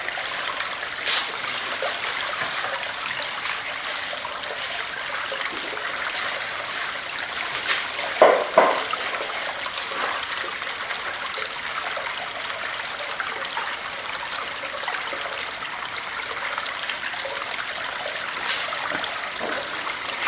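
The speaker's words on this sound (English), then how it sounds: "I'm going to run the second pail now through the bigger sluice." Water and dirt from a pail run through a larger gold sluice, a steady close rush of flowing water with one brief louder splash partway through, and no voices.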